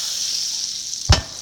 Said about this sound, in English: it's going to sizzle like that